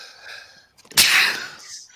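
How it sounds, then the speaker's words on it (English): A single loud, explosive sneeze bursts out after a brief breathy intake, followed by a fading exhale. "I always go sneeze in threes."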